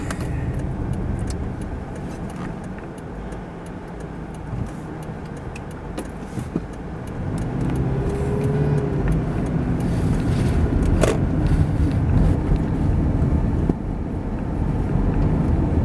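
From inside a car driving through Woodlawn, Maryland and turning right onto Ingleside Avenue, a low road rumble swells as it speeds up, with scattered small rattles and clicks.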